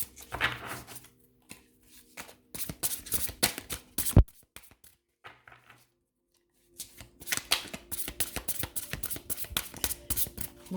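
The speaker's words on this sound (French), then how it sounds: "les cartes sont grosses, hein, donc je suis obligée de les reposer sur la table à chaque fois pour les réaligner" Oversized tarot cards tapped and shuffled against a table to square the deck, a run of sharp clacks and riffling bursts in two clusters with a quiet pause between, close and dry.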